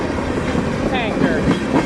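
A freight train of grain hopper and tanker cars rolls past close by, with dense, continuous rumbling and clattering wheels and brief metallic squeals over the noise.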